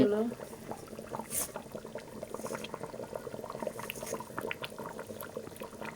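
Curry gravy bubbling and simmering in a pan after fried pumpkin, with a steady low sizzle and scattered pops close by throughout.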